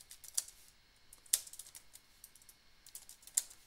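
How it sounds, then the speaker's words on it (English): Keys tapped on a computer keyboard while an error message is entered, a few sharp, faint clicks spaced irregularly over a quiet background. "I'm going to type the error message"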